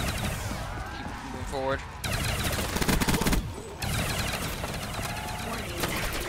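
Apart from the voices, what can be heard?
gunfire in video game Black Ops 3 Custom Zombies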